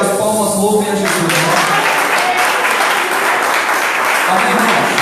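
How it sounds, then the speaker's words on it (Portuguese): A church congregation applauds in praise, steady dense clapping filling the clip, with voices calling out over it. "que as palmas louvem a Jesus"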